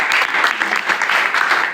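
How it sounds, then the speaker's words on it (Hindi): An audience applauds a girl who wants to join the Indian Army, a short burst of dense, lively clapping at full strength throughout. "तालियां बजाइए।"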